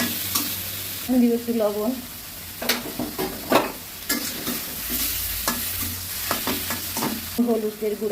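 Spice paste of green chilli, onion, ginger, cumin and garam masala sautés in a pan for a pointed gourd and prawn korma with coconut, giving a close, steady sizzle and stirring scrapes while a voice talks over it.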